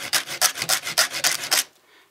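A file rasps across the teeth of a mini chainsaw chain during sharpening: about seven steady, close strokes in an even rhythm, then the sound stops.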